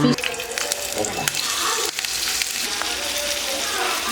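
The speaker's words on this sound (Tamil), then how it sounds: "ஃபிஷ் ஃப்ரையாக பொறிக்க போகிறோம்" Masala-coated anchovies fry in hot oil with a loud, continuous, crackling sizzle that stays dense throughout, with faint voices in the background.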